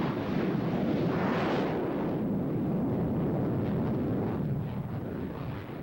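An F-16 Fighting Falcon jet passing at an airshow, a loud broadband roar that swells and shifts in pitch as it flies by, then slowly eases off, with wind buffeting and no talk.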